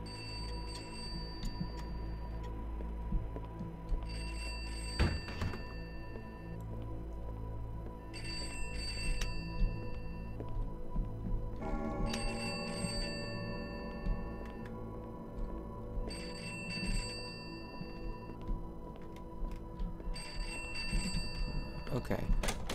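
A telephone rings somewhere in a house in a video game, a repeated bright ringing in evenly spaced bursts under background ambience while a person talks through most of it.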